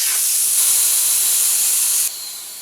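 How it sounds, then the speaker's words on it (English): Compressed air hissing out of a Ryobi 6-gallon vertical pancake compressor tank through an opened ball drain valve, a loud, close, steady spray that drops off abruptly near the end. "that's going to allow you to drain the rest of the air and moisture out of the tank"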